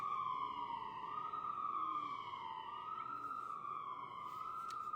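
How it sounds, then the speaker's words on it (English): A wailing emergency vehicle siren on a New York City street sweeps up and down steadily and loud for the whole stretch, with no voices over it. "Sorry about the sirens."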